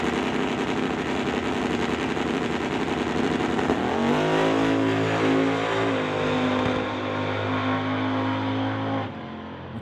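Outlaw drag racing car engine at the line, a loud rough rev that settles into a steady high-powered drone while turbo boost builds, then drops away near the end.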